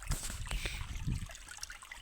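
Faint, continuous trickle of a cold-water river flowing, with soft gurgles and small splashes nearby.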